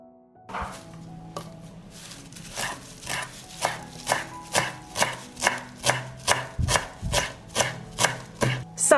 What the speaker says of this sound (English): now I'm going to chop the parsley